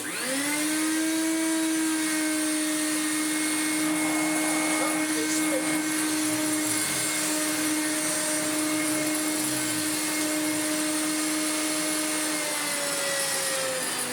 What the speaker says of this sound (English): Let's see what it's like on the carpet.